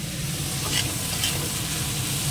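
Sliced onions fry in oil in a pan as they are stirred, making a close, continuous sizzle with soft scraping strokes over a brief stretch.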